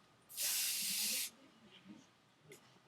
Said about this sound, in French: je prends un petit goupillon, je prends de la laque